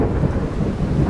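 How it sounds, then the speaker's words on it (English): Thunder during an Iowa storm: a steady, loud, low rumble with a rain-like hiss that fills the whole moment without a break. "I'm trying to bring you another Iowa storm"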